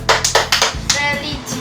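A primary school class stands and claps the rhythmic PPK chant together, four sharp, close claps in a quick pattern, followed by young voices talking.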